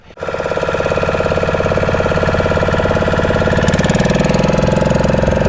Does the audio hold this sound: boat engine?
yes